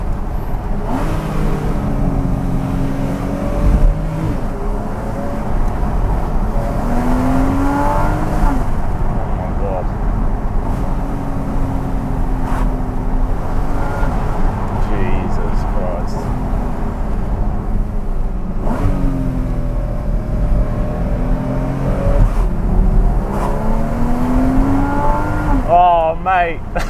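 Porsche 981 Cayman S flat-six engine droning and rising in pitch through gear changes while being driven, steady and close throughout with brief revs near the end.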